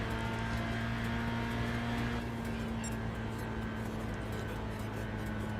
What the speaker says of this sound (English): the Lexus LFA is actually one of the better sounding cars in this game